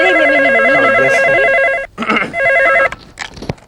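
A telephone rings during a Marathi comedy stage play: a loud, close electronic warbling ring that breaks off briefly, resumes, then stops amid some stage noise.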